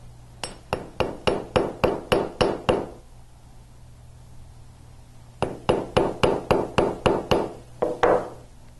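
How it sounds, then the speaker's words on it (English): Rapid metallic hammer taps on a jewelry clasp resting on a block, two bursts of about eight sharp ringing strikes each separated by a pause, close and bright. "place the clasp back on the block and hammer out just a little bit of the curve"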